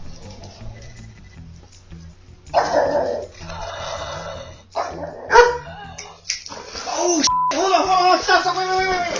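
A dog barks and yips in several short bursts, close by, mixed with people talking over and between the barks.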